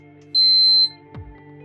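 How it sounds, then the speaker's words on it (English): A single steady electronic beep from a C-More EA9 HMI touch panel runs for about half a second during its beep test, clear and alone against a quiet hum, followed by a faint click. "we have our test for our beep and a sound. So we can do our beep test."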